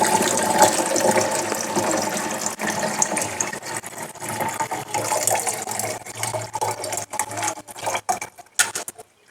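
A homemade liquid probiotic and growth-booster mixture for chickens is poured into a storage container, giving a continuous close splashing and trickling wash of liquid that breaks into uneven spurts and drips near the end.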